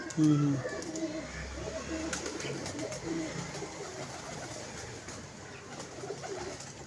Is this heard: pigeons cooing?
yes